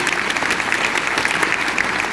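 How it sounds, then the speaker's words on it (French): Film artists receive a dense burst of applause from the audience at a premiere screening in Brussels, loud and sustained throughout, with no voices audible. "un tonnerre d'applaudissements pour ces artistes"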